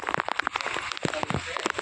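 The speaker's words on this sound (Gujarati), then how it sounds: "ઘડીક કેટલો વરસાદ પડે" Heavy rain pours onto a main market street, heard as a dense patter of sharp, close drops and splashes on hard surfaces, with faint voices in the background.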